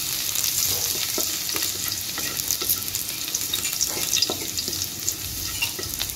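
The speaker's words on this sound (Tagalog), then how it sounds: "Toast natin ang ating garlic." Garlic toasting in cooking oil in a pan, with a steady close sizzle and faint scattered crackles and stirring scrapes throughout.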